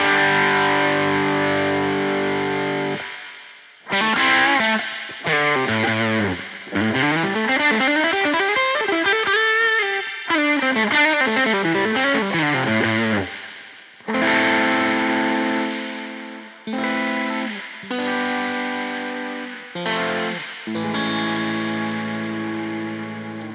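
Distorted, gritty guitar phrases drenched in a lo-fi plate reverb from a Buzzing Bugs Audio preamp-reverb pedal, with sustained notes and washy tails between short breaks.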